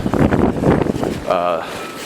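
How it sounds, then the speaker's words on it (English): Gusty wind buffeting the microphone in heavy low rumbles, with a brief voice breaking through near the end. "Really windy out here. Wind is blowing all that storm away."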